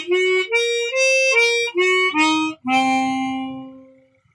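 Chromatic harmonica playing a minor 7 flat 5 arpeggio, with six clear held notes stepping up and back down, then a longer final note that fades out, solo and close.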